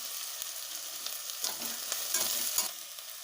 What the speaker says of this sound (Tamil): இப்போ நம்ம பச்சை மிளகாய் இது மாதிரி 2 கீரி அதையும் போட்டு வதக்கிக்கலாம்.